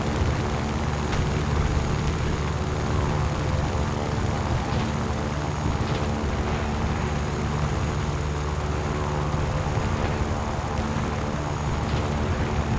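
A Yak-9K fighter's piston engine drones in the War Thunder combat flight game, a steady loud propeller roar holding throughout with no talk.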